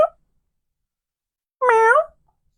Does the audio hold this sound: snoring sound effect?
no